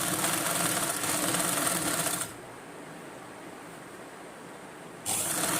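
A sewing machine stitches a government school uniform collar, running in a steady close whirr, easing to a quieter hum partway through before surging back to full speed.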